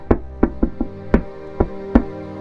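Knocking on a wooden door, seven sharp knocks in an irregular rhythm, close and clear against silence, with no voices.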